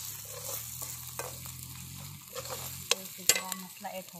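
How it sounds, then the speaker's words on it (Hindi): Onions frying in a pot at an outdoor picnic, a soft steady sizzle with stirring scrapes and a few sharp clinks of the spoon against the pot, no talking. "अभी प्याज को पहले फ्राई कर रहे हैं हम लोग यहाँ पर"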